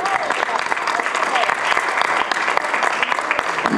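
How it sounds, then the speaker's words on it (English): A church congregation claps in praise, with dense, loud, sustained applause close by and a voice speaking over it. "Let's give God a big old clap of praise while you've been seated."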